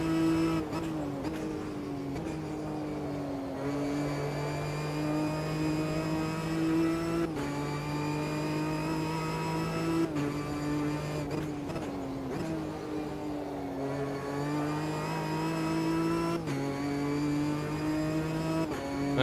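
A race car engine in a sim racing game revs loud and close throughout, climbing through repeated rising pitch sweeps broken by quick gear-shift dips, with no talking over it.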